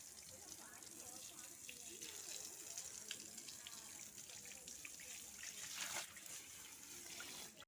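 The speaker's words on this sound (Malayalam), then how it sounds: "ഇനി നമുക്ക് മണ്ട മുതൽ താഴെ വരെ വെള്ളം ഒഴിച്ച് ക്ലീൻ ആക്കാം." Water is poured to rinse out a fish tank, making a continuous soft splashing gush that stays fairly faint and steady throughout before stopping abruptly.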